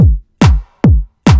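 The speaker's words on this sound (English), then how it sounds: "And the kick and clap, you want to play together, sound like this." Three punchy electronic hits from a hardgroove techno beat, each a deep kick layered with a bright snappy clap, repeating at an even pace with short gaps between.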